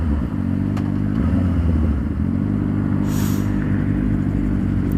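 A Kawasaki Ninja 650R motorcycle rides steadily nearby, its engine a constant low droning hum over wind noise, with a brief higher whine partway through.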